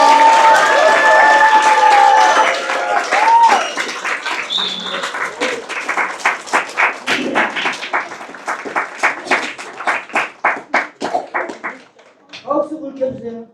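Audience applause after a student's thesis presentation at a school, starting as a full dense clapping and thinning into distinct rhythmic claps that slow and fade, with brief voices at the end.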